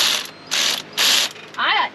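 Ratchet wrench torquing intake manifold bolts on a 1964 Ford F100 with a 292 engine: four close, loud bursts of rapid clicking, evenly spaced, with the last pull ringing slightly differently.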